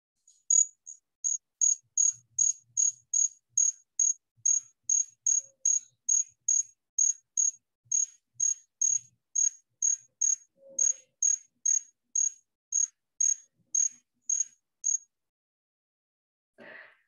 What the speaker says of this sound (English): It's our trig, our jingle bell cricket.